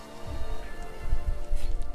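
Rain-like spell effect in the video game Valdis Story, a continuous pattering rain texture with soft low thumps and faint chimes, moderately loud.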